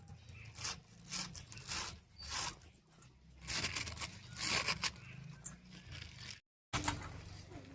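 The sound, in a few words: finely chopping spinach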